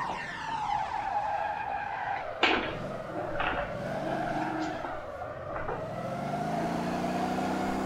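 Car in the video game Motor Town drifting with sustained tire squeal and engine whine, punctuated by a few sharp skid bursts, loud and close with no speech.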